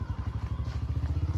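A motorcycle ridden over a rough, broken road, its engine throbbing in a steady close pulse with faint rattles and knocks from the bumps, no voices.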